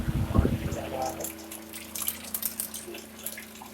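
Water trickles and splashes inside a battery-powered DC air cooler running on a home solar setup, a soft close flow with scattered drips, under a man's speech and a brief knock at the start.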